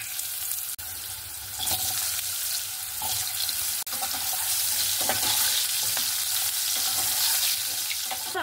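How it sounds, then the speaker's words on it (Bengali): Potatoes seasoned with salt and turmeric fry in hot mustard oil, a loud, steady sizzle with crackling spatters and occasional stirring clinks, no talk over it. "আলুটাও সুন্দরভাবে ভাজা হয়ে গেছে, আমি তুলে নিচ্ছি।"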